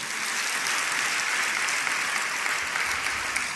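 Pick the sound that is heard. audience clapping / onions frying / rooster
audience clapping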